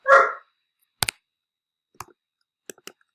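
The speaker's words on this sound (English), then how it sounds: "my dog is quite angry right now because he is, I think, shut himself somewhere he doesn't want to be" A dog lets out one loud, sharp angry bark, followed by scattered faint clicks and thumps in an otherwise quiet room.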